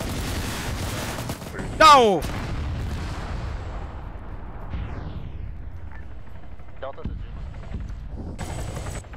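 Video game combat fills the scene with continuous rumbling gunfire and missile explosions. A sharp, louder blast stands out near the start, and a voice briefly shouts over the din.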